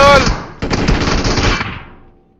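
Uzi submachine gun firing in a mobile shooter game: a loud, dense automatic burst, a brief break, then another sustained rattling burst that tails off as the clip ends.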